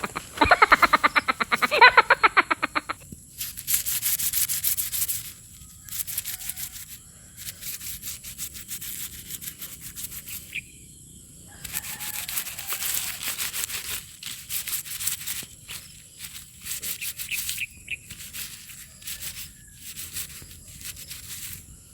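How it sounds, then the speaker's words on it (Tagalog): Mabolo (velvet apple) fruit is rubbed against carabao grass to clean its fuzzy skin, producing bursts of brisk, close scratchy rustling separated by short pauses. "So, ingud-ngud lang siya sa ano, sa Carabao grass."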